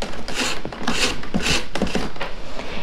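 Reed lashing is drawn through the stakes of a woven basket rim, several dry rasping, scraping pulls in a loose rhythm, close and fairly loud with no talking.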